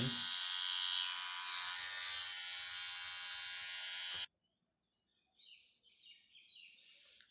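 A two-year-old Mi electric beard trimmer buzzes loudly and steadily up close, then switches off abruptly, leaving faint birdsong and quiet background sounds.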